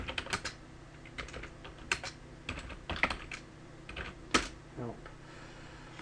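A computer keyboard is typed on in short bursts of clicky keystrokes while entering a password, close and fairly quiet, with a brief spoken word among the taps.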